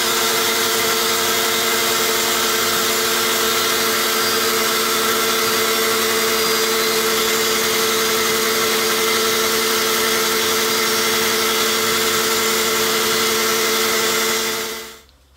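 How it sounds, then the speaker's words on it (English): A bandsaw runs steadily while resawing a wooden board, taking 3/16 inch off each side, a loud, constant humming drone with no change in pitch, cut off abruptly at the end. "So over to the bandsaw and resaw 3/16 off of each side."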